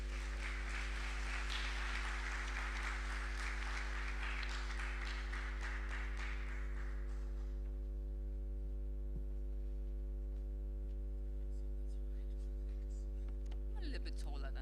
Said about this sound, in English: A round of applause for her as she comes.